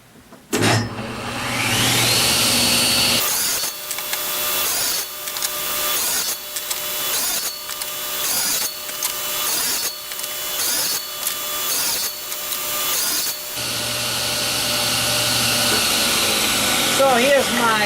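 A saw repeatedly cuts Ipe wood segments for a bowl, its motor whining steadily while about eight short, regular cuts bite in close by, with talk heard along the way.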